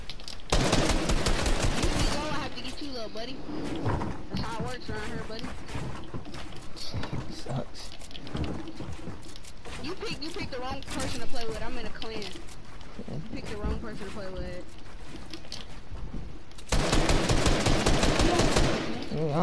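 Rapid machine-gun and gunfire bursts ring out from an online duos shooter match, loud at the start and end with bursts continuing through the middle while people talk over them.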